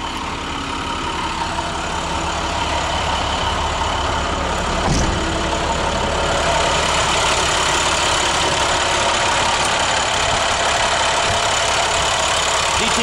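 A T466 truck with 140K on it idles steadily with its engine running, a continuous mid-to-low rumble that carries on without a break the whole time, with one brief clunk partway through and no talking.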